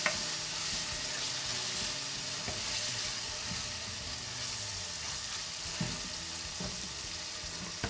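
Tomato and pepper paste sizzles steadily in a pan while being sautéed for a borlotti bean dish, with a continuous frying hiss and a few soft stirring knocks.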